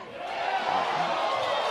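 Crowd noise from a softball stadium during an NCAA game between Florida State and Georgia, a steady lively roar of many voices holding at an even level throughout without letting up.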